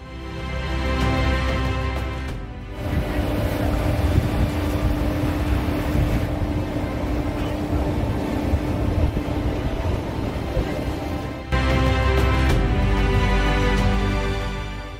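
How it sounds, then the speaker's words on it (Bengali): A tour boat heads toward the big rock in the middle of the Rhine Falls, with a loud, steady engine drone mixed with rushing water and wind noise, briefly dipping mid-ride. "এই নৌকোটি নিয়ে যাবে আমাদের ওয়াটারফলের মাঝখানে বিশাল রকের কাছে"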